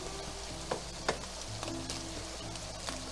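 Slices of Spam sizzle and fry in a pan while being basted with teriyaki sauce, giving a steady crackling hiss broken by a few sharp pops and light stirring sounds, close and quiet.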